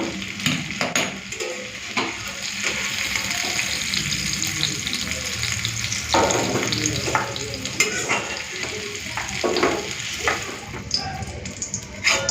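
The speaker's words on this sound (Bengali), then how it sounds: "পেঁয়াজ কলি আর ফুলকপি ভেজে নিয়েছি" Onion stalks and cauliflower fry in a pan with a steady, close sizzle, broken by repeated scrapes and knocks of a utensil stirring against the metal.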